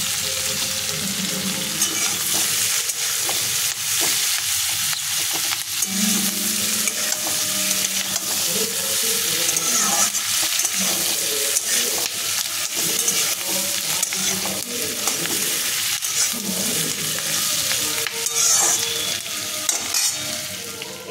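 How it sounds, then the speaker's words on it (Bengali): Green chillies added to hot oil in a pan for chicken butter masala, sizzling loudly and continuously up close with frequent stirring scrapes, with a hint of running water in the background. "আর তার সঙ্গে লঙ্কাগুলো দিয়ে দেবো।"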